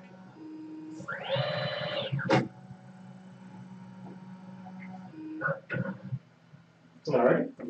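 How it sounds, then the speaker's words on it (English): A Great Cut vinyl cutter's blade holder whirs as it travels from left to right, a short motorized run followed by faint mechanical ticks and clicks, with someone talking briefly over it. "Once I turn it on, this little blade holder is going to go from left to right."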